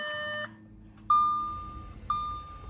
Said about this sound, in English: we do have this beeping because of it says shift to P